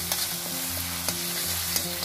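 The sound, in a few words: spice paste roasting in oil for chana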